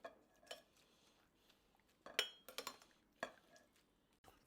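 Spaghetti and clams being mixed with utensils in a bowl, with scattered clinks and scrapes of cutlery against dishware, sharpest in a cluster near the middle, close and moderately loud.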